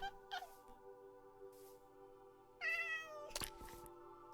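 A cat in the Minecraft video game meows a few times against steady background game music, with one longer, clearer meow near the end.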